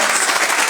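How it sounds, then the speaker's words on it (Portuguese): Dense applause from a church congregation during a Pentecost worship service, steady and enveloping clapping through the whole short stretch. "Vamos aplaudir o Senhor mais uma vez."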